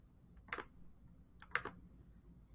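Two short bursts of computer keyboard typing, a few quick, crisp clicks each, heard close and fairly quiet against a near-silent room.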